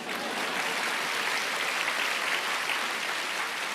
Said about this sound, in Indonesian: Kenapa sekarang kalian tepuk tangan?